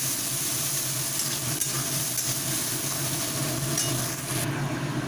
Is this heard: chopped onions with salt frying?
yes